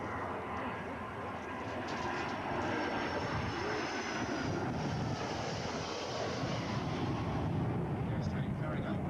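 A Royal New Zealand Air Force Boeing 757 jet makes a flypast at an airshow, its engine roar steady and fairly distant, mixed with wind buffeting the microphone.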